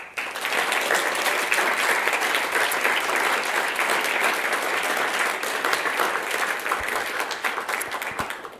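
Sustained audience applause fills a school district governing board meeting, a steady dense wash of clapping at moderate volume for about eight seconds that tapers slightly near the end, with no talking over it.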